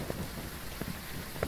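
Rain in the horror video game Phasmophobia, a low, faint continuous wash of falling water with occasional soft drop-like ticks, no speech.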